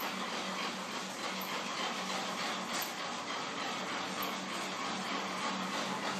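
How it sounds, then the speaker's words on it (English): Steady broadband machinery rush from a screw conveyor carrying sawdust into a dryer on a biomass briquette processing line, continuous and fairly loud with a faint rhythmic clatter and no talking. "will be transported into the sawdust dryer by the screw conveyor"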